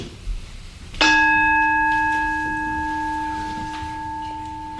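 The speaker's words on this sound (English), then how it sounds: "So I'm ringing the bell" A meditation bell is struck once, giving a clear, sustained ringing tone that fades slowly over several seconds, set against a quiet room.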